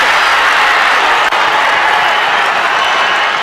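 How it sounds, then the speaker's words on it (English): A large crowd at a senior grand final of Australian rules football between Sandhurst and Eaglehawk roars and applauds after a goal, a loud, sustained wash of cheering and clapping filling the whole stretch. "Listen to the crowd."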